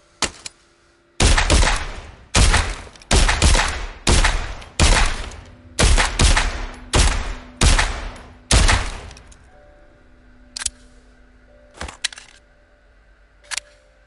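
Gunfire in the video game Walking Dead: Saints and Sinners comes as a rapid run of about a dozen loud, close shots in quick succession, followed by a few sparser, fainter shots and quiet gaps.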